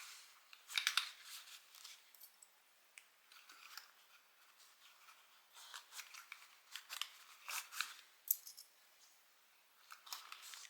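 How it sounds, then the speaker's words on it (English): Scissors snip off excess sewing lining at the bottom of a garment, making quiet, crisp clicking cuts in irregular bursts, close up, with no voices. "Even if I have a little bit of extra lining at the bottom, I can cut that off."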